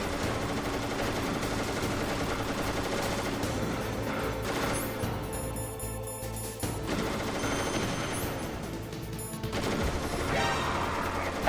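Sniper rifle fire in Metal Gear Solid rings out amid loud, busy in-game combat, with shots and bursts layered over continuous background music and effects, gunfire recurring throughout without clear pauses.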